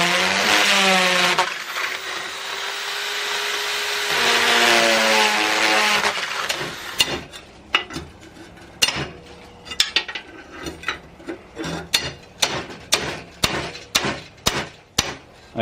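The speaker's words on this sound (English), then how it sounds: "a good chunk of the filter is now removed with the combination of the drill and the crowbar" A power drill whines and revs, then gives way to rapid metallic hammering and clanking as a drill and crowbar break up the filter inside a car exhaust.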